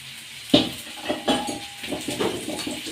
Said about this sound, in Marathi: रवा तेलात छान परतू द्यायचा आहे, अगदी उकळून येतो रवा